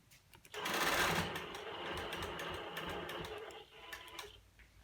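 A longarm sewing machine stitches quilt binding on a diagonal, a steady close-up mechanical whir that kicks in abruptly and runs for about four seconds before easing off, with no talking.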